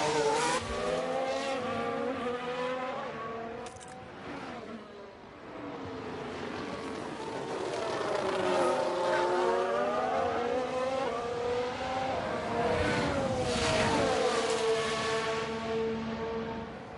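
Race cars lapping the Monaco street circuit in the F1 Manager 23 video game, a continuous loud whine of engines rising and falling in pitch as cars pass and shift, with no talk.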